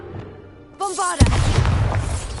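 A Bombarda spell in Hogwarts Legacy on PS5: a brief rising magical chime gives way to a sudden loud blast, followed by crackling debris that fades over the next second.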